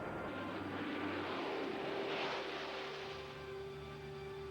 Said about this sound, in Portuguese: o Concorde decola